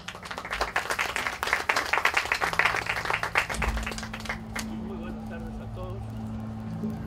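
Audience at a Catholic Church round-table in Peru breaks into strong clapping for about four seconds, dense and fairly close, then fades out as a speaker begins talking over a low hum.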